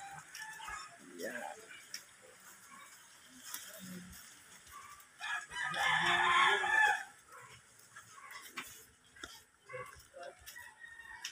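A rooster crows loudly partway through, surrounded by scattered clucking and faint farmyard noises, with people talking intermittently nearby.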